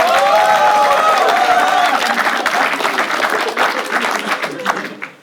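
An audience at a stand-up comedy show bursts into loud, sustained applause mixed with cheering voices, the clapping dense and close before slowly thinning and fading at the end.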